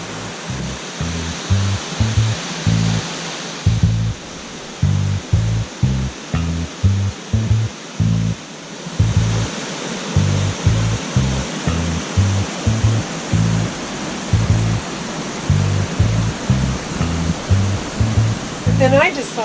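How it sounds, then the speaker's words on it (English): A waterfall near Bend, Oregon, sends up a constant broad rushing roar, with a steady rhythmic low thumping running beneath it throughout. "we hiked down to the bottom of the falls, and gorgeous, absolutely gorgeous"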